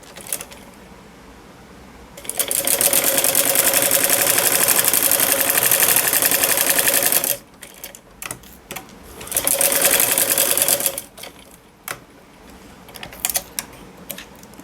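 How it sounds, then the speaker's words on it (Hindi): A sewing machine stitches along a folded fabric strip for a sleeve, running in a long close burst of rapid clatter, stopping, then giving a shorter second run and a few brief taps. "और अब यहाँ से मैं एक इसके ऊपर सिलाई लगाऊंगी।"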